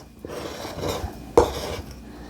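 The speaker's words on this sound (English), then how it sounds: "I'm using a tablespoon here. This seems to be perfect to get the dough into our muffin tin here." A tablespoon scoops dinner roll dough into a muffin tin, giving a soft scrape followed by one sharp metallic clink as the spoon knocks against the tin.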